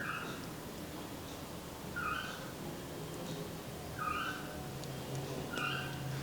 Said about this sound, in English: Can you hear the bird chirping?